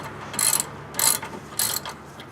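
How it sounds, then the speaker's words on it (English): A hand ratchet clicks in three quick bursts while tightening a brake caliper bolt, each burst a short crisp run of pawl clicks, close and distinct against a quiet background. "Now we finish up with the ratchet."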